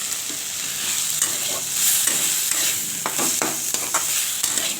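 Spice masala with tomato paste stir-fried in a pan, a continuous sizzling fry with intermittent scraping stirs close by, no voices.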